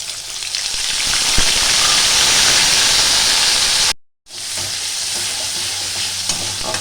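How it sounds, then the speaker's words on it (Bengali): Ginger and cumin paste fries in a pan with vegetables for a Bengali cabbage dish, a loud close sizzle with scraping stirs that cuts out briefly, then resumes a little softer, no talking. "আদাটা একটু ভালো করে কষিয়ে নিতে হবে"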